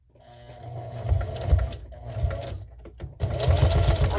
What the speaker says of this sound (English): going to back stitch at the top, and I have left an end open for turning.